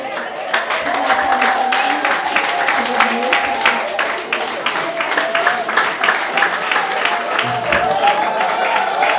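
Wedding guests in Kigali clap in a sustained round of applause, many hands beating in a dense, fairly loud patter, while a voice speaks over it.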